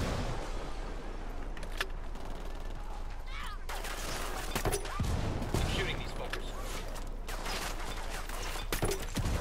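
Bursts of gunfire from the Ghost Recon Wildlands video game, several volleys of rapid automatic fire cracking across a steady battle ambience, loud and close.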